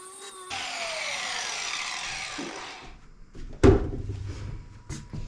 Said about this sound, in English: I want to take this down just a little bit, so we'll just grind a little